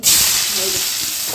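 Mustard seeds pop in hot coconut oil with crushed onion, garlic and curry leaves, making a loud, close, continuous hiss and sizzle that starts abruptly and holds steady.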